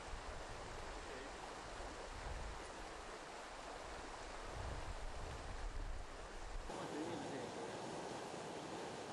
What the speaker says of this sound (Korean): 내설악의 모든 물줄기가 모이는 곳이다